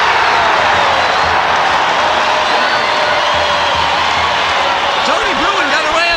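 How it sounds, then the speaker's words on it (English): A packed arena crowd roars at a Syracuse men's basketball game after a fast-break dunk, a loud sustained wall of cheering and whoops, with a commentator's voice running over it. "the crowd going wild"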